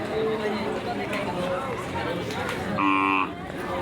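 Cattle at a busy Qurbani livestock market in Fatullah, Narayanganj, with a loud cow moo standing out near the end over a constant hubbub of crowd chatter and nearby voices.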